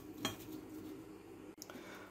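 A spoon stirs seasoned potatoes in a bowl, giving a few soft scraping clinks, with one sharper knock near the start and another after a brief pause, close and fairly quiet.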